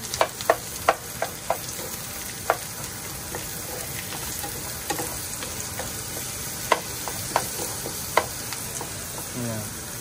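Onions fry in a pan on the stove with a soft continuous sizzle, punctuated by sharp scattered clicks and taps of a utensil stirring against the pan.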